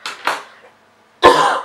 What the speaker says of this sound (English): This is why I'm coughing too,